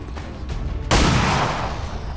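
Gunfire aimed at a soldier in the video game XCOM 2, a sudden loud burst of shots after a quieter stretch, then ringing and decaying, close with no voices.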